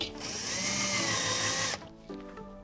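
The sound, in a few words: power drill driving screws into wall anchors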